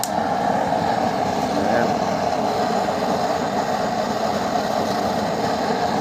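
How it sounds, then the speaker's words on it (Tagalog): An air blower under a used-oil burning stove roars steadily and loudly throughout, a constant rushing hum with no pauses, close by. "Nakapul yung aking blower."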